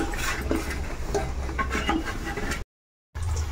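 Wheat flour dough is mixed and pressed by hand, giving continuous soft, close kneading and squishing sounds that stop briefly for a moment of silence, then resume.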